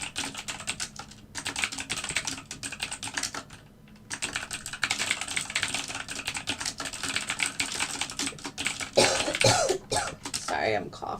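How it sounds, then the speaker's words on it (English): A person coughs several times amid a steady clatter of keyboard typing, with some talking in between. "Sorry, I'm coughing."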